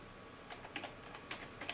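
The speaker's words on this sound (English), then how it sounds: "Type in the password and click OK, or just hit Enter." Quick irregular taps on a computer keyboard as a password is typed, a short burst of light clicking keystrokes close up in a quiet room.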